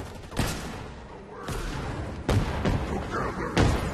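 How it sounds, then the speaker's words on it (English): Heavy booms and blasts from explosions in Halo Infinite, four loud impacts spaced about a second apart, each followed by a rumbling tail over constant battle noise. "I love the big booms in this game."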